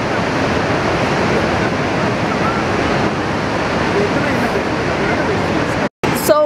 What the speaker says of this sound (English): You can see the American Falls and that's the Niagara Falls, or like the Horseshoe Falls.